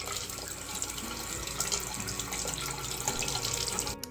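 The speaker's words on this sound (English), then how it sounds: "And then we wait for it to start siphoning it up." Water rushes and gurgles steadily through an aquarium gravel cleaner tube as it siphons, a continuous close splashing flow that ends abruptly with a short clunk.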